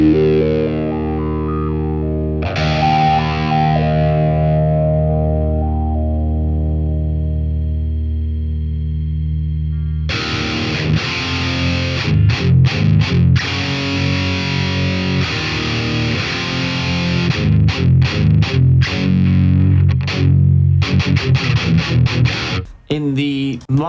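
Distorted electric guitar through a BOSS Katana MK2 amp with its EQ boosted and swept: a long sustained chord rings out, is restruck, then gives way to gritty, choppy strummed riffing whose tone shifts as the boost sweeps, loud and alone.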